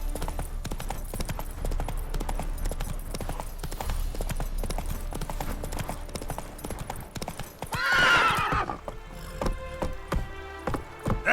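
Roach, a horse in The Witcher 3, gallops in a fast steady clip-clop of hooves, then lets out a loud neigh near the end, with game music and effects underneath.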